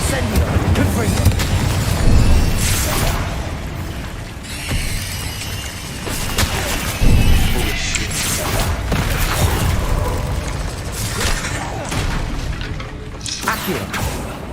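Confringo explosion spells go off repeatedly in Hogwarts Legacy, loud booming blasts and crashes recurring throughout amid continuous combat noise, with voices calling out over the chaos.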